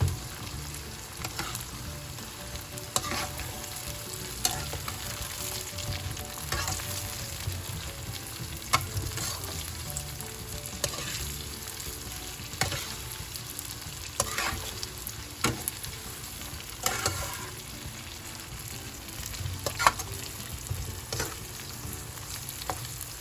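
Meat for Pangasinan pigar pigar fries in a pan under steady stirring, a continuous sizzle with frequent spatula scrapes and clacks at an irregular rhythm, close and with no talk.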